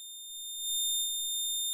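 A synthesized sine wave tone from a VCV Rack modular synthesizer setup sounds as a steady, pure electronic whine, held unchanging and fairly quiet throughout with no other sounds.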